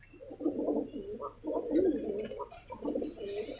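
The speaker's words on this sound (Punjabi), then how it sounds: "ਕਾਫੀ ਵਧੀਆ ਕਬੂਤਰ ਨੇ ਜੀ" Racing pigeons in a Ludhiana loft coo in three close, throaty bursts with short pauses between them, loud and clear with nothing else over them.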